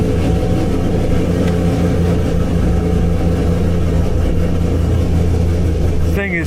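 A cammed V8 in a Chevrolet Camaro Z/28 rumbles loudly and deeply up close on a warm start, idling with a choppy, uneven beat before a brief sharper sound at the end.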